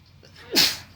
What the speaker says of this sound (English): As I had to sneeze there for a second, guys.